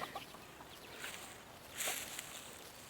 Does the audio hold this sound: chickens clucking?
yes